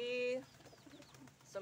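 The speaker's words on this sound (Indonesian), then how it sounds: "Burung daranya, burung merpati sudah kenyang gitu ya" Pigeons being fed husked corn give a soft, low coo close by, followed by faint rustling and a quieter bird call in the background.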